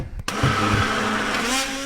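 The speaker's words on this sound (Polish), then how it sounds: "kolejną częścią jest blenderowanie" An electric blender whirs loudly and continuously, blending a porridge mixture, starting up with a brief burst and then holding a steady high-pitched grinding roar close by.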